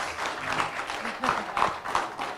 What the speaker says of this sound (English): Please clap for them as they walk off stage.